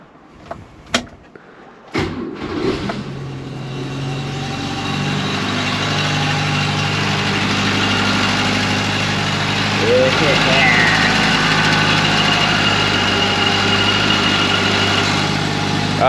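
A Renault Dauphine under restoration is started, cranking after a couple of sharp knocks, then settling into a steady, fairly loud idle that runs on alone to the end.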